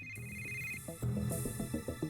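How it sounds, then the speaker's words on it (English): A phone rings in the Yakuza video game, a steady electronic tone that gives way to a rhythmic pulsing ring pattern over game background sound. "Your phone's ringing."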